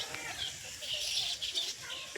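A crowd of pigeons and other birds calls together, a dense, chattering mass of chirps and coos with occasional flutter, heard steadily over a short stretch.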